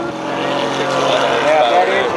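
An aircraft engine at the 2004 Oshkosh airshow drones as a steady, loud, even roar, with people talking over it.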